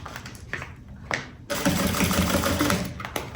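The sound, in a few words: sewing machine stitching a fabric pencil case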